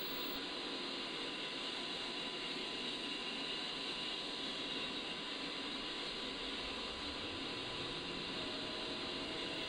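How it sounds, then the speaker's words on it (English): A-10C jet engine spooling up during start-up in the DCS World flight simulator, a steady, loud broadband turbine roar with a high whine that holds throughout, no talking. "As the engine spools up, scan the engine monitoring instruments panel"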